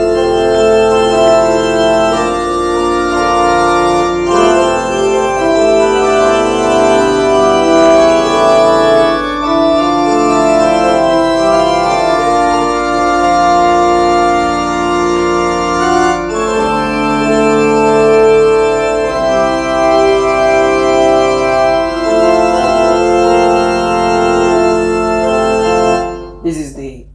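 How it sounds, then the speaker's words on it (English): Pipe organ voice on an electronic musical keyboard playing sustained chords and a moving melody, loud and continuous for nearly half a minute before fading at the end. "So we have then pipe organ, which gives this sound."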